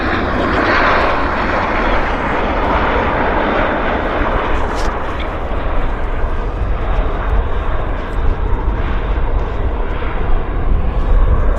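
An airliner takes off from runway 08 right at Vancouver airport, its engines a loud, steady broadband roar held close and unbroken throughout.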